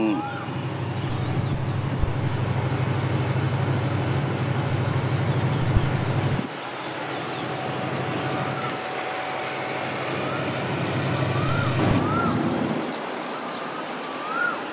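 Diesel train engine revving at Bang Sue station in Bangkok, a loud steady low rumble that drops and surges again, with faint station sounds around it.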